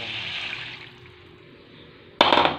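Water pours and splashes into a pan in a sudden burst near the end, after a steady background hiss.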